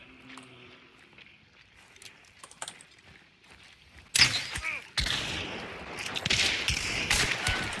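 Crossbow shots fired at enemy players in Hunt: Showdown, two sharp, loud cracks about a second apart after a quieter stretch, followed by sustained noisy game action, with a voice talking.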